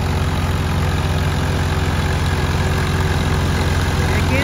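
A Swaraj 855 FE tractor engine runs steadily nearby, a loud, continuous low diesel chug without pause.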